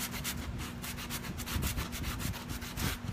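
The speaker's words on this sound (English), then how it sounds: "I'm just sanding it down right now." Sanding down a chalk sign by hand: steady back-and-forth rubbing strokes in a quick, even rhythm, close and fairly soft, with no voices.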